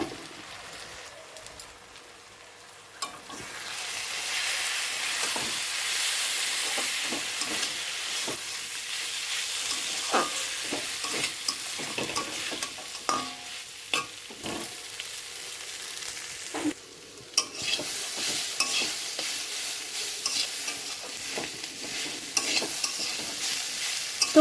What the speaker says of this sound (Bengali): তো বন্ধুরা দেখো আমার চালটা দিয়ে সুন্দর করে নেড়েচেড়ে নিয়েছি